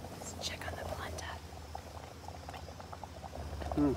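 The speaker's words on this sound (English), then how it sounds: "Polenta's bubbling up." Polenta bubbles and pops softly in a pot on a backpacking stove on the trail, a faint, steady simmering patter with a brief louder burst near the end.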